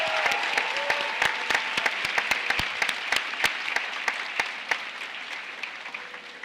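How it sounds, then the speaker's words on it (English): A crowd applauds at a college commencement ceremony, steady dense clapping with sharp individual claps standing out, sustained throughout and gradually thinning toward the end. "Let's give everyone a big round of applause."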